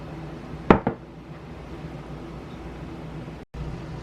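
A baking dish of herb-seasoned catfish is slid into the oven: a brief metallic clatter and clink near the start, then a quiet room hum and a soft thud as the oven closes.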